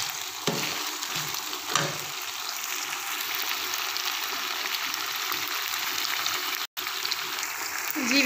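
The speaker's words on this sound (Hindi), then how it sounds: "तो ये तकरीबन 2-3 मिनट हो गए हैं अदरक और लहसुन का पेस्ट डाले हुए। तो अच्छी तरह जो है वो फ्राई हो गया है" Ginger and garlic paste frying in a pan gives a steady, close sizzle and crackle throughout, with a couple of brief stirring scrapes near the start.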